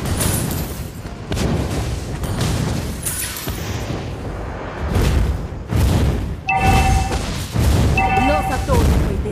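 Explosions in the mobile video game Mobile Legends, several heavy booming blasts in bursts with game effect tones between them, loud and close.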